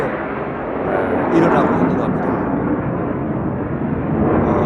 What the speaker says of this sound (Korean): 지금 저 전투기 소리가 들리죠?